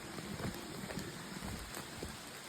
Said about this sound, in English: pretty good brief but heavy rain